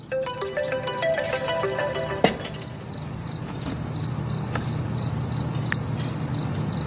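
A phone rings with a short, bright, repeating melodic ringtone for about two seconds before cutting off with a click, leaving a quiet room with a faint insect-like chirp in the background and no talking.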